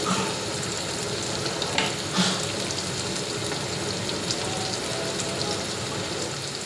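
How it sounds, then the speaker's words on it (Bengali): Onion and garlic fry steadily in hot oil in a pan for a brinjal and fish roe dish, giving a loud, continuous close-up sizzle with a few faint stirring scrapes. "পেঁয়াজটা ভাজা হলো, এখানে রসুনটা ভাজা হয়ে গেল"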